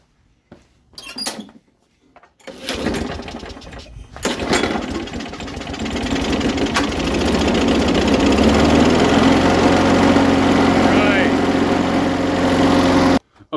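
A lawn mower engine sputters, catches briefly, then starts and settles into a steady, loud running drone that continues to the end.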